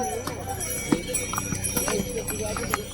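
Horses' hooves clip-clop irregularly on a hard mountain pilgrimage trail to Kedarnath amid a bustling crowd, with people talking nearby throughout.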